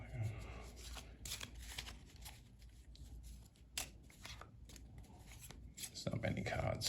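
Random event cards for a World War I strategy board game are shuffled by hand, a quiet, papery riffle and slide close by, with a voice talking over much of it.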